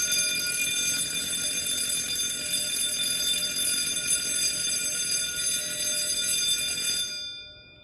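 A heat detector alarm in a smart grille project sounds as a continuous high-pitched electronic ringing tone, steady and fairly loud, running for about seven seconds before stopping.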